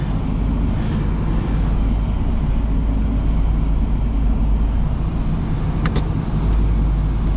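A car engine warming up idles with a loud, steady low rumble that holds constant throughout, with a couple of faint brief ticks on top and no talking.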